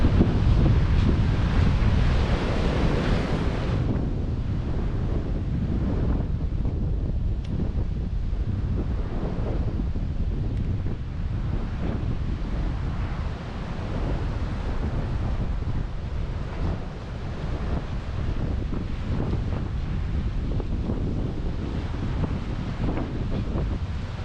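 Strong wind buffets the microphone with a constant low roar, while ocean surf washes in steadily behind it on a beach on the Bass Coast.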